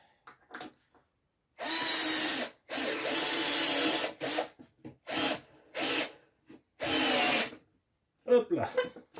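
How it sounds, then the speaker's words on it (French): A power screwdriver drives screws into a Stokomani observation tower during furniture assembly, giving five or six close, loud whirring bursts of one to two seconds each, with short pauses and light handling clicks between them. "on la colle et on visse"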